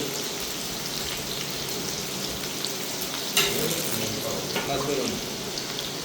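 Onions fry and sizzle in a pan for vegetable curry, a steady crackling hiss broken by occasional scraping stirs, with no voices.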